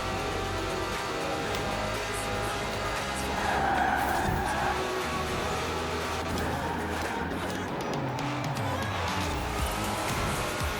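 A Ferrari 599xx races on a wet track in Forza Horizon 4, with a continuous engine drone and a swell of tire hiss and skidding midway, steady and moderately loud.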